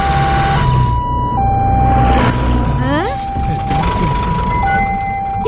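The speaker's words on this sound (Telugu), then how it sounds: "ఇదేంటిది? అంబులెన్స్." A two-tone ambulance siren wails steadily, switching pitch at a regular pace, while people talk and shout over it nearby.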